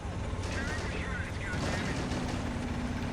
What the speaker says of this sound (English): those AT guns don't mess around for the Japanese